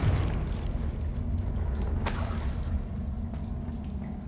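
A Confringo fire spell blasts in Hogwarts Legacy, a single sharp burst midway through that rings out and decays over a steady low rumble of game ambience.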